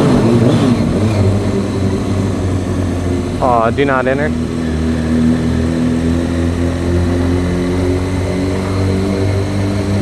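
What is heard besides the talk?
vehicle exhaust echoing in a tunnel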